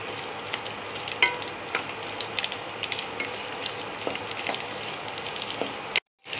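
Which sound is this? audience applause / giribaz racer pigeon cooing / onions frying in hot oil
onions frying in hot oil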